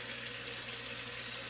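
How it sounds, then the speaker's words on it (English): A hot water tap runs at a neglected property, giving a steady, even rush of flowing water with no pauses and no talking. "let's see if the hot water works."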